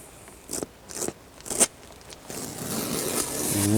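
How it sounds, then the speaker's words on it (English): Tape peels off a leather car seat in several short raspy tearing bursts, close and crisp, followed by a longer continuous scraping strip. "I'm going to peel the tape so you guys can see that epic 50-50"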